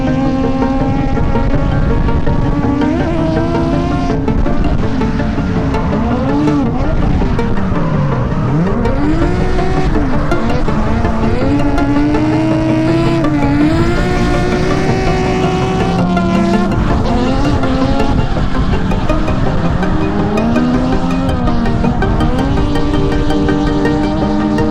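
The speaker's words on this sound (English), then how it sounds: "this is probably one of my favorite drifting piece of footage I've ever captured" A car drifts at night in Japan, its engine loud and close, revving and bouncing up and down in pitch through sustained slides, with screeching tyres woven throughout the continuous roar.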